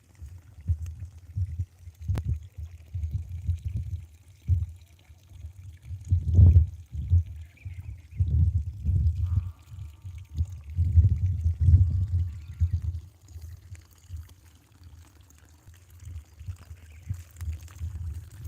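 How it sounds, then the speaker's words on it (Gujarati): Water overflows, spilling and gushing in uneven low surges that rise and fall over several seconds, then fade to a quieter trickle. "પાણી ઓવરફ્લો થઈ ગયો"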